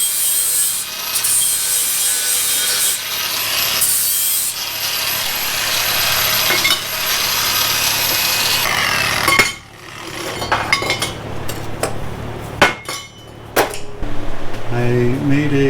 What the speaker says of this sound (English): I'm going to deburr them